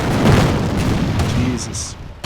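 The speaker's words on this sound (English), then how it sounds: "They are bombing me again." Bombing explosions in the North Africa war game Attack at Dawn, heavy low booms rumbling continuously across a couple of seconds, loud and dense, then fading out near the end.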